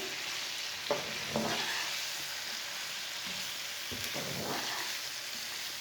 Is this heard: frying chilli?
yes